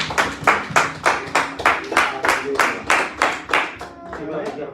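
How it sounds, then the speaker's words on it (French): A church congregation claps in a steady, rhythmic beat, about a dozen loud unified claps in quick succession, with voices calling out underneath. "On acclame très fort pour la gloire de Dieu"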